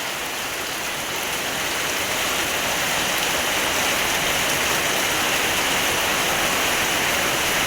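Rain falls steadily in a village setting, a dense even hiss throughout with no talking.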